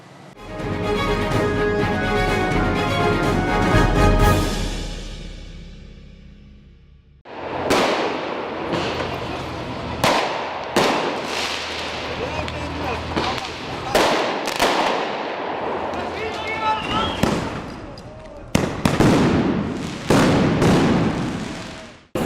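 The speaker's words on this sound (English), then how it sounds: "Fireworks is the only thing for us to defend from the police" Fireworks set off during street protests: a long sustained roaring burst, then a run of sharp loud bangs and crackles at irregular intervals, with crowd noise and voices in between.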